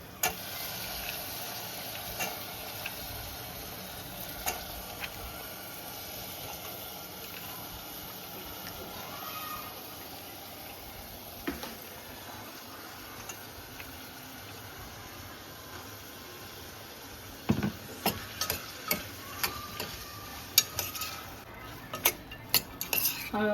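Cowpeas and potatoes cook in spiced oil in a pan while a spoon stirs them, giving quiet scraping and scattered metal clinks that turn into sharper, more frequent clatter near the end.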